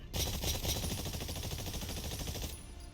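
A rapid, steady burst of automatic gunfire in Exoprimal, loud and close, holds a fast even rhythm for about two and a half seconds before cutting off, with no speech over it.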